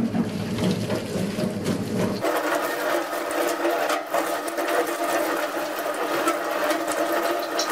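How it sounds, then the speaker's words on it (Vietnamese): Tap water runs steadily to rinse a kitchen knife after washing off oil with dish soap, a continuous close hiss and splash that shifts in tone partway through, with no talking. "Bây giờ mình sẽ xả nước."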